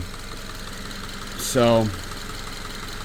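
Subaru FB engine idling steadily after repair, a low, even mechanical hum with a brief louder tonal whine in the middle, while a voice speaks briefly over it.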